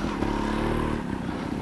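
A trial motorcycle on an off-road course in Falkenstein, Styria, accelerates hard toward a jump over a wooden log, its engine a loud, close, continuous roar.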